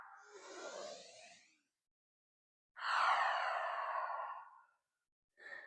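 Slow, deep breathing during a beginner vinyasa yoga flow, with a long airy exhale, a quiet gap, then a strong drawn-out breath and the start of another, close and unaccompanied by talk.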